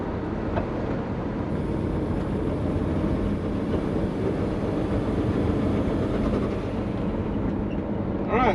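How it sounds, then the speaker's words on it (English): Compound-turbo Subaru Forester running with compressor surge: a loud, continuous engine and turbo roar with fluttering texture, heard close up throughout. "Alright, so it's still doing the compressor surge."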